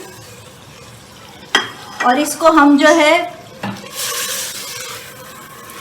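Yogurt and tomatoes being stirred and fried in a pot, with a sharp utensil clank, scraping stirs and a rising sizzle, close and loud while someone speaks over it.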